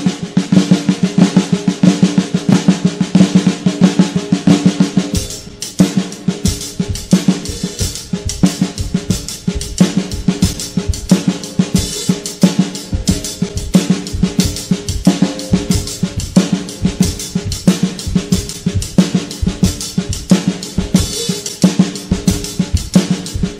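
Snare drum played alone, close and loud, running a flam paradiddle-family rudiment with a flam on every beat; a dense, rapid, steady stream of crisp strokes continues throughout.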